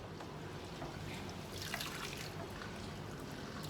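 Water runs steadily through a raw Indian curly hair unit as it is rinsed after shampooing, with a constant close splashing trickle and no voices.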